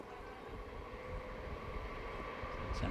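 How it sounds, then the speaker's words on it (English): A train rolls past beside a T10 cricket ground in Hungary, a steady broad rumble with a faint hum lasting throughout, moderately loud and even, under the distant background of the match. "so we hear another train go past"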